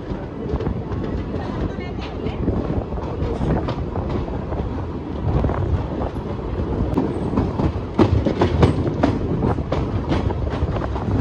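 The Hyderabad–Vasco da Gama Express rumbles along steadily, heard from inside with continuous wheel noise and faint rhythmic clatter, a loud, dense roar throughout.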